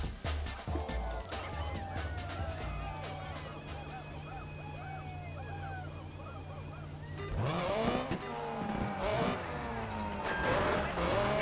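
Engine roar from a rally car in the racing game DiRT 3, revs rising and shifting through gears with tire noise, steady and loud throughout.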